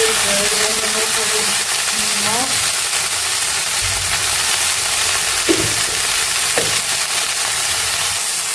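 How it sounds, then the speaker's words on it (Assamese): Bitter flowers fry in a pan with a loud, continuous close-up sizzle and occasional stirring scrapes, while a faint voice comes through early on. "এইখিনি এতিয়া ধুনীয়াকৈ খাবলৈ যোৱালৈকে মই ভাজি ল'ম"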